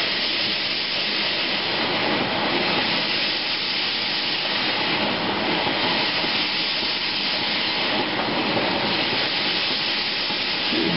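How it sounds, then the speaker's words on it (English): A telescope mirror lapping machine runs with a steady, even mechanical drone and a rough hiss, continuous and close throughout. "Let the machine do the lapping for myself."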